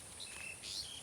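Birds chirp faintly outdoors on a breezy, cloudy afternoon: a few thin, high calls over soft steady wind hiss, with one slightly louder burst near the end.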